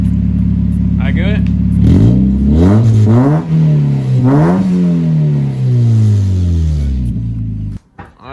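A car engine revved a few times after a cold start, each rev a loud, close rise and fall of pitch over a rough idle. A brief voice speaks near the start.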